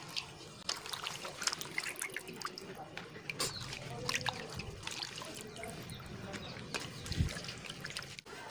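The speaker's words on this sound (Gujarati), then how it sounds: "बधा ज पानने आ रीते चोखा पाणीथी ધોઈને આપણે સાફ કરી લેશું" Clean water trickles and splashes steadily over patra (colocasia) leaves as they are rinsed, a soft close running-water texture with faint background voices.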